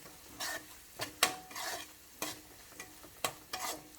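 Green chillies and ginger-garlic paste stir-fried over a high flame for vegetable fried rice, a steady soft sizzle broken by repeated scraping strokes and metallic clinks of a ladle against the pan, close and moderately quiet.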